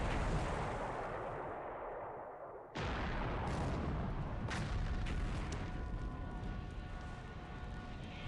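Bombs explode on motor launches in the War in the Pacific video game, a deep rumbling roar that swells, breaks off, then a fresh loud blast rolls on in a sustained booming wash.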